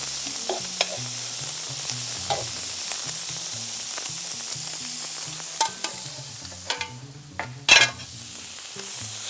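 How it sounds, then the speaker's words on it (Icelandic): Onion and bell pepper frying in a pan, a steady close sizzle with scattered stirring scrapes and a few louder clatters of a utensil against the pan near the end. "steikjum þetta allt saman"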